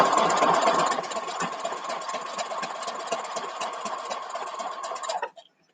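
A sewing machine stitching a quilt block, a steady fast mechanical whir with rapid needle ticking, close and moderately loud, running for about five seconds before stopping.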